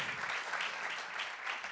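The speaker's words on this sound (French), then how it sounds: "Déjà, on peut les applaudir jusqu'ici." Audience applauding at a talk on artificial intelligence in healthcare in Nantes, a short, even burst of hand clapping from a seated crowd, moderately distant and steady throughout.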